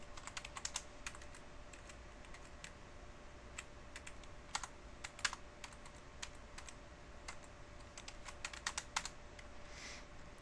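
Rapid, irregular keystrokes on a computer keyboard while entering router configuration commands, with clicks in bursts and short pauses across the whole stretch over a steady low hum, no talking.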